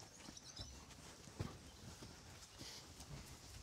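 Two horses, a Norwegian Fjord and a Haflinger, walk out onto grass with soft, faint clip-clop hoofbeats in an irregular rhythm, one slightly louder thump among them, over quiet outdoor ambience.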